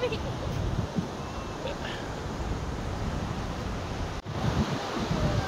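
Surf washes steadily onto the shore at Shrivardhan beach, a continuous broadband roar with wind buffeting the microphone and a brief dropout near the end.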